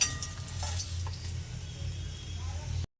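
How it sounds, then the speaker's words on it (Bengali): Eggs sizzle in oil in a wok over low to medium flame, a soft, steady frying crackle heard close for a few seconds before cutting off abruptly. "1 থেকে 2 মিনিট ডিমগুলো উল্টে পাল্টিয়ে ভেজে নিয়েছি।"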